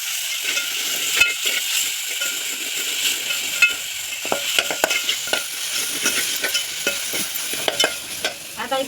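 Green paste of chili, garlic, ginger and coriander frying and being stirred in a pan, a steady bright sizzle broken by repeated scraping strokes and clatters of the spoon, close and alone without talk.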